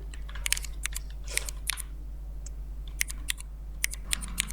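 Quick bursts of keystrokes on a computer keyboard while entering text in Photoshop, crisp close clicks in short irregular runs over a steady low hum.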